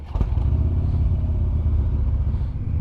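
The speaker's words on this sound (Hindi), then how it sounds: "यहाँ पे नासिर भाई की बाइक खड़ी है जी, हार्ले" A Harley motorcycle engine idles with a steady, deep low rumble close by, holding an even throb throughout, with a brief clattering knock near the start and no talk.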